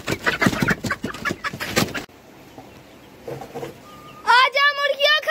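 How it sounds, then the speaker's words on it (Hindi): Chickens cluck and squawk on a poultry farm, a loud burst of clucking near the end after stretches of a person talking and quieter shuffling. "ये मुर्गियां मैं एक बार को बाहर निकाल दूं।"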